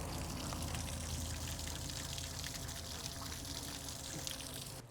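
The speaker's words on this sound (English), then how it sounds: "That right there is the bilge pump to my water tank and my gas tank." A pontoon boat's bilge pump for the water and gas tanks runs steadily, giving a continuous wet rushing and splashing like water pouring, constant and fairly close with no pauses.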